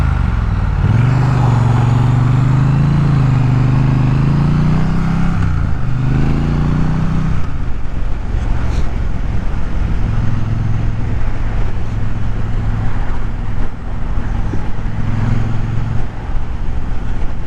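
Steady road and engine drone from a Triumph Bonneville motorcycle ride, loud and continuous, with the engine note rising and falling early and wind and passing traffic blending in.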